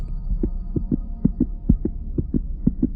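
Steady heartbeat sound effect for a Marathi horror story: about a dozen regular, close, thudding double beats over a low hum, with no voices.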